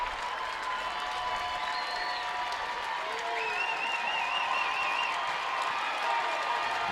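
A college softball stadium crowd at an Alabama versus Auburn game rises and applauds, steady distant clapping and murmuring with faint whistles, heard from a broadcast booth.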